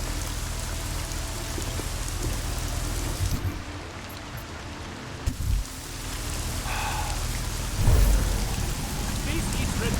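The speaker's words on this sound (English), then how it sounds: "And please get us out of the rain." Steady rain pours in Deus Ex: Mankind Divided, a dense, continuous hiss that runs throughout, briefly thinning in the middle, with a low rumble and a thump near the end.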